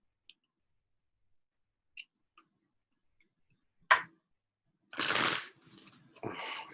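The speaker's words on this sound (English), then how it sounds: "If you knew how much I shuffle even before I shuffle, very well shuffled." Tarot cards being shuffled during a three-card reading, a faint tap and click early on, then two short riffling bursts of card shuffling near the end, close and quiet with no talking.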